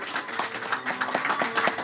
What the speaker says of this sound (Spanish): Vamos a recibirle con un fuerte aplauso, mis hermanos.